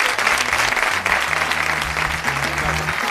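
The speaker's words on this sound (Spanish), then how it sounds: "todo este ejercicio quiere un aplauso" Steady, dense applause from a crowd, clapping continuously and loudly throughout.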